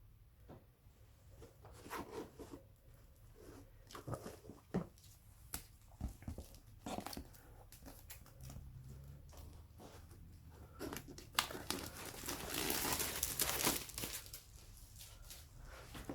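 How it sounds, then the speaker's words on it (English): Cardboard packaging of a board game being cut open by hand, giving a run of scattered scraping, tearing and crinkling sounds with sharper bursts near the end, close and fairly quiet, with no talking. "Let me see how I can cut this without damaging anything."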